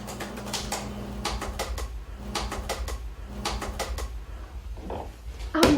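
Rapid clicking keystrokes on a laptop keyboard in a film scene come in quick bursts with brief pauses, over a low room hum, ending with a louder knock.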